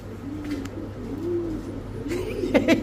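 Soft, low pigeon cooing rolls along in repeated phrases over a steady background hum, with a few brief clicks near the end.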